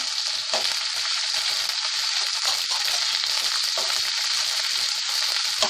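Green and red capsicum sizzle in a hot pan, a steady, close frying hiss with light crackles and occasional stirring scrapes throughout.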